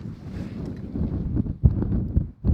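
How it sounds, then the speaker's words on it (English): Strong wind buffets the microphone in a snowstorm in the Swiss mountains at minus thirty degrees, a steady low roar with heavier gusts surging near the end. "So you can see there is a lot of wind and snow"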